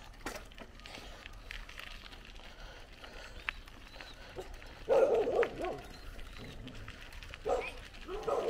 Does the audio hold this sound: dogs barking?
yes